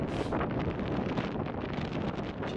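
Steady breeze buffeting the microphone on a Scottish mountain summit, a constant loud roar with no gusts dying away and no voices.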